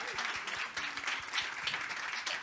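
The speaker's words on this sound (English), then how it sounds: "Round of applause." Audience applause after a talk on food quality data, a quiet, distant patter of clapping holding steady throughout with no voices on top.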